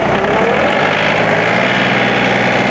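Compact tractor engine, either a Kubota LX3520 or a John Deere 2032R, running in low gear with a loud, steady diesel drone and an even rumble close by, with no break and no talking.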